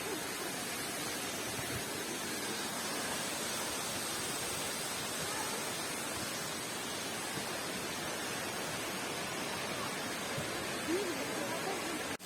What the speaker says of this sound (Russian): это мы находимся, водопад Червоный. 20 метров высота водопада.